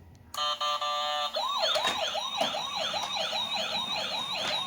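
A small electronic toy ambulance siren wails in rapid repeating up-and-down sweeps after a short beeping tone, bright and tinny, close by.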